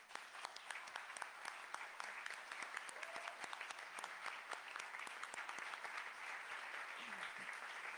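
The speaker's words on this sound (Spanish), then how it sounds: "les quiero pedir que les demos antes un aplauso" Sustained applause from an audience at an international university congress on higher education, a steady, even wash of clapping across the whole stretch with no pauses.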